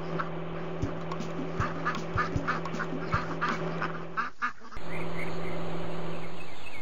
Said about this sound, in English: The baby ducks are out of the road!